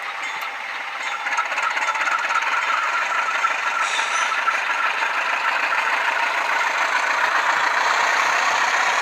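Intermountain U18B model locomotive with a sound decoder installed, its diesel engine sound throttling up as a steady rattling drone that holds for the full stretch at moderate loudness from a small speaker, with no talking.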